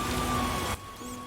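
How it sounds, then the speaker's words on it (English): Heavy rain falling in a fantasy video game, a dense steady hiss that drops off abruptly partway through, leaving fainter ambient noise and a low tone. "It's raining hard."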